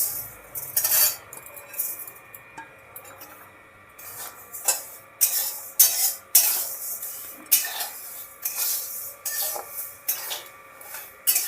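An ingredient lightly dry-roasted for a vegetarian Ekadashi dinner, stirred in a pan with a utensil, giving repeated bursts of scraping and rustling every second or so, close and crisp, with quiet gaps between strokes and no talk.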